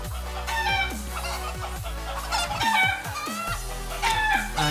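Fayoumi chickens on a netted farm cluck and squawk continuously, several birds calling over one another at close range with repeated short descending calls and no talk.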